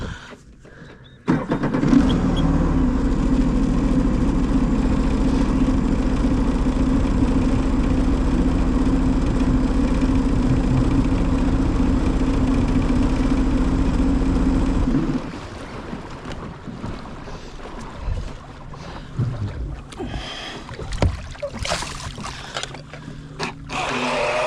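A Mini Zonda outboard RC boat fitted with trim tabs runs on choppy water, its small motor giving a loud, steady buzzing whine for about thirteen seconds before cutting out, leaving gusty wind noise and light handling bumps.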